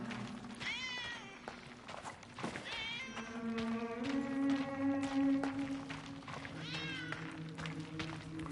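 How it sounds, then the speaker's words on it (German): A cat meows several times in the 11-11 Memories Untold video game, high wavering cries standing out against steady music and low ambient tones, with a few soft thumps. "Wie zum Teufel kommt die Katze hier rein?"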